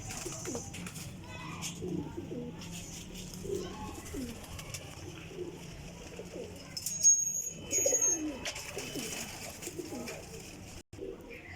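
Pigeons coo in soft repeated calls at a show-quality pigeon loft, with faint chirps and background voices mixed in at low level throughout.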